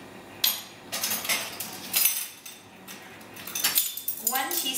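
A whisk works lemon juice into warm cream cheese in a metal pan for cheesecake fondue. Brisk, close clinking and scraping strokes come in bursts, with brief pauses between them.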